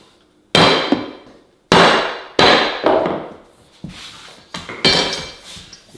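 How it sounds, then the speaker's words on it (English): Sharp dull thuds of a dead blow hammer striking a pull bar against a vinyl floor plank, five or six separate hits at uneven intervals, close by with no talk. "we're gonna take our pull bar and our dead blow hammer, and we're gonna hit the plank"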